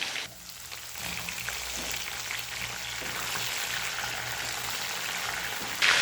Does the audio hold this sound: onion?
yes